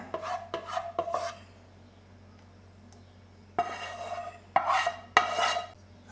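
Hot bread pudding mixture is poured into a buttered dish and swirled around it. Short scraping, sloshing bursts come in two groups with a quiet pause between them.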